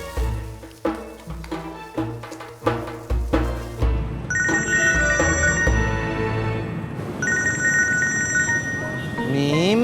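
A telephone ringtone chimes repeatedly over rhythmic background music, a bright electronic trill pattern that returns in two bursts while low beats pulse underneath.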